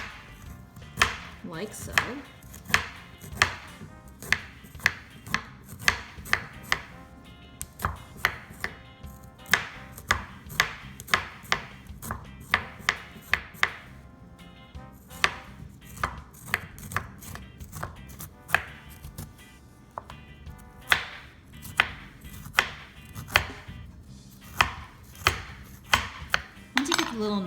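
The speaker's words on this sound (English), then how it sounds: "with the back of the spoon, you can scrape down the skin of the ginger root" Back of a spoon scraping the skin off a ginger root in a series of quick, rhythmic strokes, close and crisp, with a brief spoken remark.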